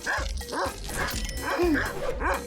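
A dog barks loudly and close in a quick series of sharp woofs and yips mixed with whimpering notes, repeating in bursts with no talk over it.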